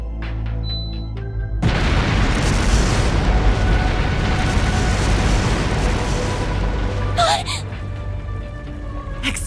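Explosive artifacts detonate in a palace during the Dantès boss fight of the video game Trails Through Daybreak: a dense, sustained roar of booming blasts that bursts in after a quieter opening, with a sharp crackling flare near the end.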